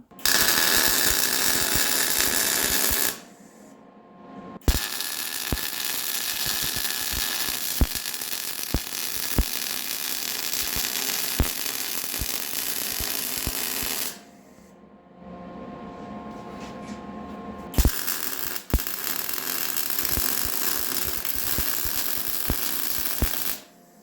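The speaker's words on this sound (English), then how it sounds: "So I guess let's get to welding, huh?" Welding on a Ford 9-inch axle housing mounted in a fixture, a continuous close crackling buzz in long runs broken by two brief pauses, with sharp ticks and clicks scattered through, no talk.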